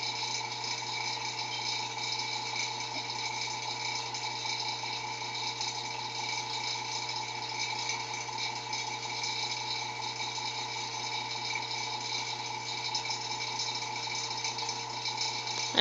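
Resin degassing under a vacuum chamber, with a steady, faint mechanical hum of the vacuum equipment and a soft, even background hiss running unchanged throughout, no voices.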